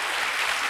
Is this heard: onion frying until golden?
no